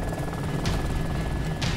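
A low-flying airplane in the video game DayZ drones loudly with steady throbbing engine noise, with two sharp bursts standing out.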